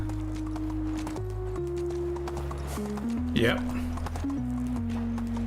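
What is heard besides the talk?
donkey hooves clip-clopping while riding in Medieval Dynasty video game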